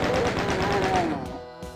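Rapid, evenly spaced chaingun fire from a chaingunner in the video game DOOM, a quick rattling volley that drops off into a couple of sharp closing shots.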